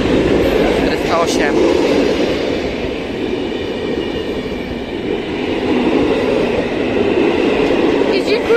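An Intercity train hauled by an EP07 electric locomotive rolls steadily into Bydgoszcz Główna station in Poland with a broad, continuous rumble and rattling wheels, loud and close, while a voice speaks briefly over it.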